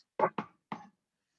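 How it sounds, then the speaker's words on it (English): Three knocks as a sound effect in a staged Macbeth scene, two quick blows then a third after a pause, dull and close against silence. "Wake Duncan with thy knocking."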